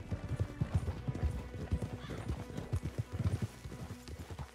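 Horses' hooves clip-clop in a fast, continuous rhythm in the Red Dead Redemption 2 video game, with a faint whinny amid the galloping and some voices speaking faintly beneath.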